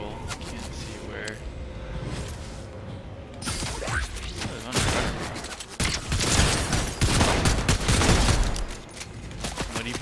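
Gunfire in the Fortnite video game, with bursts of shots rising in the second half and staying dense and loud amid mechanical clatter, under game sounds.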